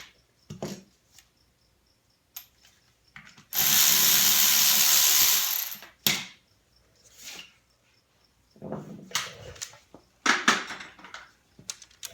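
A ratchet loosening the 10mm timing cover bolts on a 3SGTE engine: short, sharp bursts of rapid ratchet clicking separated by quiet gaps, with one longer, louder stretch of clicking near the middle.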